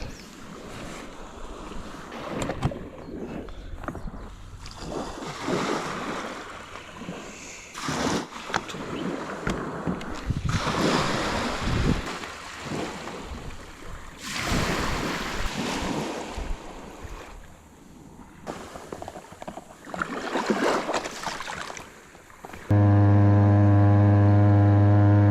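Wind and waves at the sea in West Izu roll in as surging, uneven washes of noise with rumbling wind gusts on the microphone. The roar ends abruptly in a steady tonal hum.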